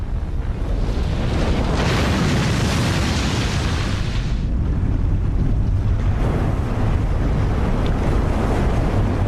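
A great mass of flood water and waves: a loud, continuous roaring rush of churning water with a brighter surging swell in the middle, wind-like and unbroken throughout.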